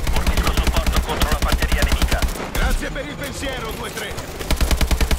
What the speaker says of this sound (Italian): Guardali che ci sparano e fuggono intanto.